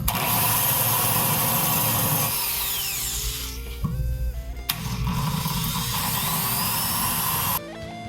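A power tool grinds loudly against a metal washer on an arcade control panel, a steady harsh whine for about two seconds before dropping off, then restarting and running continuously until near the end.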